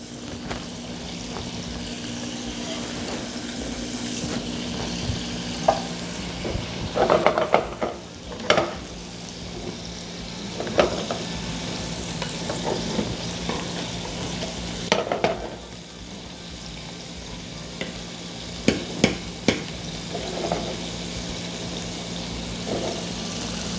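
Garlic, ginger and onions fry in a hot pan with a steady sizzle, punctuated by repeated scraping and clattering as a utensil stirs them, close and fairly loud throughout.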